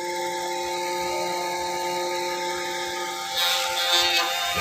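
An electric blower feeding a homemade used-oil burner stove hums with a steady whirring drone, turning louder and rougher near the end as the flame builds, with no speech.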